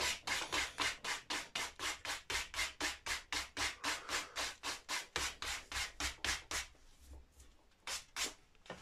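Quick scuff sanding of the finish on an Orville by Gibson guitar headstock with wrapped paper, a fast even back-and-forth rasp of about twenty strokes, close and steady, slowing and fading near the end.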